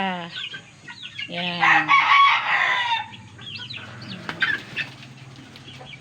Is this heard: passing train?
no